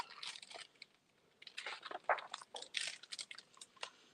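Crisp, irregular crunching and biting bursts, close and fairly quiet, like a mouse eating seeds, coming in quick clusters separated by short pauses with no talking.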